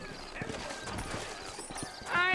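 Horses' hooves clip-clop in a steady rhythm through a Western frontier scene in Red Dead Redemption, with a brief whinny near the end and faint talk underneath.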